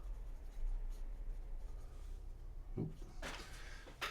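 A Sheaffer Australia fountain pen with a snorkel filler and a wet, broad-writing nib scratches across paper in quiet, close strokes, with a few brighter scraping bursts near the end.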